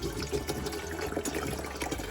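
A quart of water pours steadily into a coffee percolator, a continuous splashing, trickling stream heard up close.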